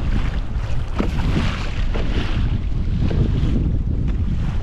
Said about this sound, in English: the winds were obviously getting brutal at this point